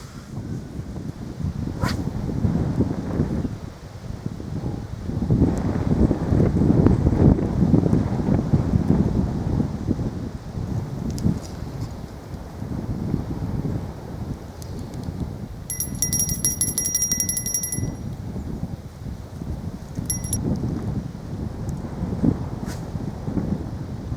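Strong wind buffets the microphone in heavy, fluctuating gusts while fishing, with faint high-pitched reel clicks and ticks now and then.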